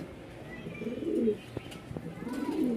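Chocolate-coloured pigeons coo in low, throaty rolls, two drawn-out calls rising and fading close by, with faint chirps around them.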